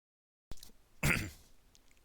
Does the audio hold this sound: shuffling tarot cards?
no